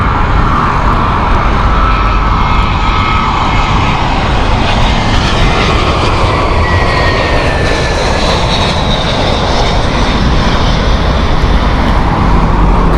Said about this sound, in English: Cathay Pacific is just taking off at the moment